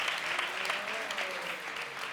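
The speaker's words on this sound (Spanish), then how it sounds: "Puedes aplaudir si quieres." A crowd at a gala event claps in continuous, fairly even applause, heard at moderate loudness from within the room, with a faint voice briefly audible beneath it.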